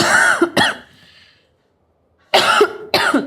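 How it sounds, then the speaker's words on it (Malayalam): Two bursts of harsh, close coughing, each a pair of quick coughs, separated by a short silent pause. "നല്ല ചുമയുണ്ടല്ലോ"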